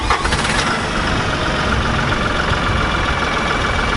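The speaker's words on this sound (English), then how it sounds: "fixing to crank our tractor back up" LS XR3135 tractor engine being cranked back to life, a short burst of starter and ignition noise that settles straight into a loud, steady, rough running rumble close by.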